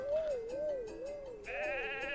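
Cartoonish sheep bleating in the video game Miitopia, a wavering, quivering bleat that rises into a brighter second bleat partway through, clear and upfront with no talk.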